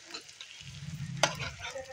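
A breakfast snack sizzles in a pan as its second side cooks, a faint steady frying hiss with a brief stir or clatter near the middle.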